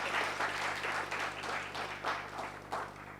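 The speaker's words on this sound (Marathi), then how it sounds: "आपण अण्णांसाठी जोरदार टाळ्या वाजवूया" Audience applause at a Marathi literary felicitation event honoring a writer, steady moderately loud clapping from a hall crowd with rhythmic surges, continuing without speech.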